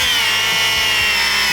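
A Bosch angle grinder fitted with an abrasive disc whines loudly and steadily at close range, grinding metal castings during a car rebuild.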